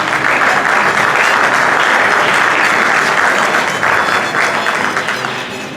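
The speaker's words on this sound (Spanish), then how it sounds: "Quiero pedirles un fuerte aplauso para quienes hoy se encuentran en la mesa principal." Loud, continuous audience applause at a literary book presentation, sustained and dense throughout, easing slightly toward the end.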